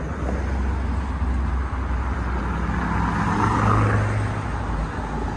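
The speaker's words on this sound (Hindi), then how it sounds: "गाड़ियां काफी है, ट्रैफिक यहाँ पे इस तरफ भी बहुत है" Traffic on a busy street at a pedestrian crossing hums with steady engine rumble from cars and heavier vehicles, swelling slightly as one vehicle passes close near the end before easing back.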